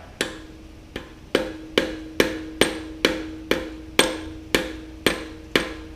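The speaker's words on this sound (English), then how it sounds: "I might use like the big boy hammer now just to make sure." Eleven sharp metallic hammer blows strike a socket pressing a part into a Toyota 4A-GE engine at a steady pace, each ringing briefly with a clear pitched tone before the next hit.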